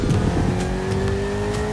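A Ferrari 488 engine in The Crew Motorfest hums close and loud, its steady high-pitched drone held at near-constant revs through the brief moment.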